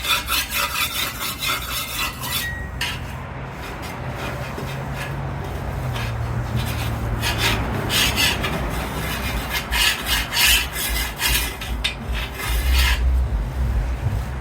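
Metal scraper rasping grease and gunk buildup off the grates of a Pit Boss Lexington 500 Onyx pellet grill, steady back-and-forth scraping strokes up close, loud and continuous with no talking.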